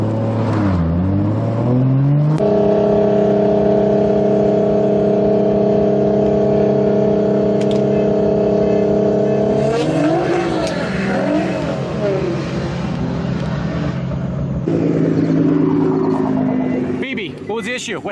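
A 1000hp Cummins diesel truck and a Supra rev hard on the street from a dig, with loud sustained engine drone and shifting pitch as they accelerate, and voices talking over the engines.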